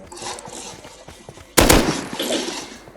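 Gunfire in the survival game Rust: a soft patter of distant shots, then a sudden loud burst of close weapon fire midway that keeps rattling on, with no talking.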